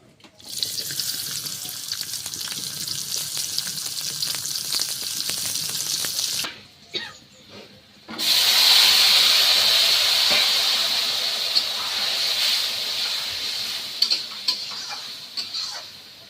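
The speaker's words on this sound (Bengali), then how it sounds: "এই তেল আর চিংড়ি মাছের মধ্যে লাউটা দিয়ে দেবো।" Chunks of bottle gourd dropped into hot oil with prawns in a kadai, a loud steady sizzle and hiss that pauses briefly, then bursts back stronger with stirring.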